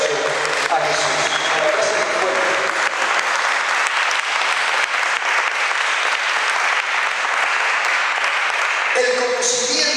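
A church or lecture audience gives sustained, dense applause honoring Jesus, loud and continuous for the full stretch, with a voice faintly audible near the end.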